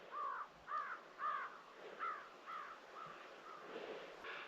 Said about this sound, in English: All the crows are flying in a flock.